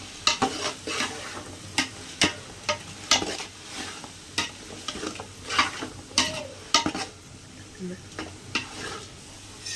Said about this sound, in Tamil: நம்ம புதினா கொத்தமல்லி போட்டு நல்லா கிளறினதுக்கப்புறம் பாருங்கள்